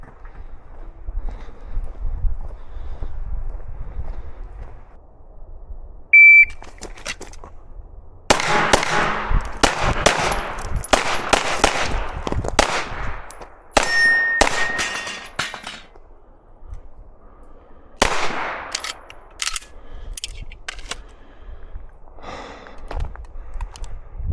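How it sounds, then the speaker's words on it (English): Gunshots at a shooting range striking steel targets: sharp cracks come in several rapid clusters with quiet gaps between, and metallic rings follow the hits. "I took one there just so I can shoot the steel"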